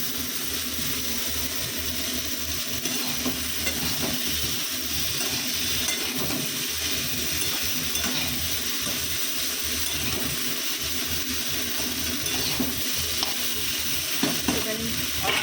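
Eggplant, snake gourd, drumstick stalks and a little potato fry in a pan with ground ginger and cumin paste, giving a continuous close sizzle with frequent scraping and stirring. The steady frying noise runs throughout with no talking.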